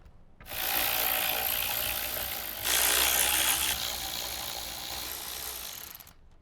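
A ratchet with a 9/32 socket backs out the factory radio screws in a Jeep Wrangler JK dashboard, giving a steady close-up mechanical clicking and rubbing that swells midway and then eases, with no voices.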